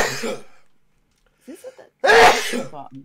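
A single loud, close sneeze bursts out after a brief pause, preceded by someone speaking and a soft throaty sound.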